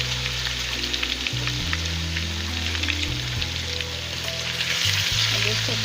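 Half a kilo of chicken frying in a pan with garlic and ginger, a steady loud sizzle with occasional stirring scrapes and a low background hum throughout, no speech.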